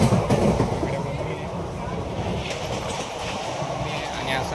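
A passenger train runs on its rails, a loud, continuous rumble and clatter of wheels with faint rhythmic clacking throughout, and a voice is partly audible under the noise.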